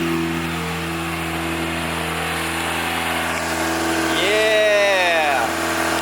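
A Toyota MR2 Turbo engine runs steadily and loudly up close, with a rising whine partway through as it revs, then settles back.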